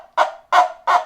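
A cup-and-string squawker toy, worked by pulling a wet sponge along the string, gives three loud, raspy, gobble-like squawks in a steady rhythm with short silent gaps between them.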